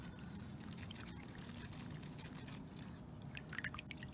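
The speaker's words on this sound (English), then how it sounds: "I'm just gonna take the roots and soak them in water" Water is poured over freshly cleaned plant roots to soak them for water propagation, a faint, steady pouring trickle with scattered drips and splashes, alone and close.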